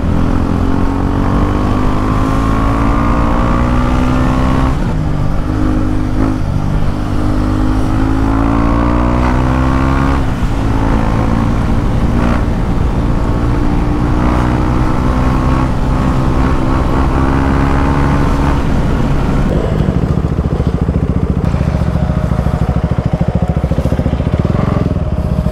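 A motorcycle ridden off-road on Raise Moto tyres drones steadily and loud throughout, its engine note rising and falling in repeated revving sweeps with no talk over it.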